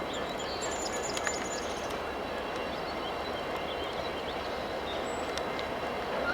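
Norfolk Southern Steelton Local freight hauled by a pair of EMD locomotives on the Pittsburgh Line near Marysville, a steady low rolling rumble of rail cars in the open air on a summer morning, with faint birdsong and occasional squeals above.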